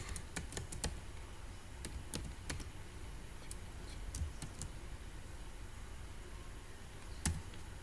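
Computer keyboard keys clicking in scattered bursts while digits are deleted in Maple software, crisp taps and pauses close to the microphone, no talking.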